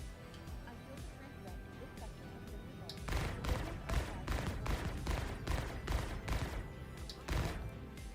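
Ship turrets fire repeatedly in the space game Star Citizen, a rhythmic series of loud thumping shots beginning partway through, with voices talking underneath.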